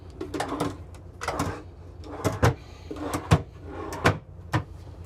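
Cabinet drawers in a Prevost H3-45 double-slide bus conversion slide open and shut several times in a row, with sharp knocks as each one closes, close up in a quiet interior.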